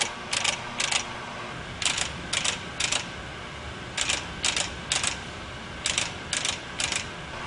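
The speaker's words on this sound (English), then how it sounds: "A series of clicking sounds will be heard when the lathe adjusts for runout." A Pro-Cut brake lathe adjusting for runout gives off crisp mechanical clicks in tight pairs and triplets. They repeat at a fairly steady rhythm over a constant motor hum.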